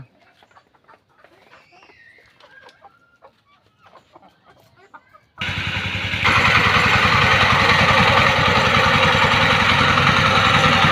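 Native desi chickens cluck softly for several seconds, then a loud, steady engine-like drone abruptly takes over and drowns everything out.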